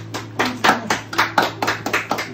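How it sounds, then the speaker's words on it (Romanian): A small group claps for a grandmother at a family surprise, a close burst of steady, rhythmic applause lasting a couple of seconds over a faint low hum. "Aplauze!"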